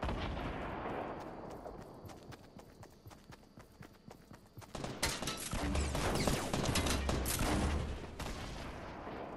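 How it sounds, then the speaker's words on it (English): Gunfire in a Fortnite match, a rapid scatter of sharp cracks and shots, sparse at first and then building into a dense, louder volley in the second half. "They're shooting each other."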